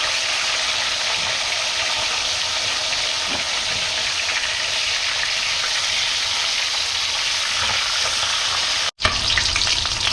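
Food fries loudly in a pan with a dense, continuous sizzle and crackle close to the mic. The sound breaks off sharply near the end before resuming.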